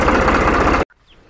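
A tractor engine running loud and close with a steady low rumble while the tractor sits stuck in a river, cutting off abruptly to near silence.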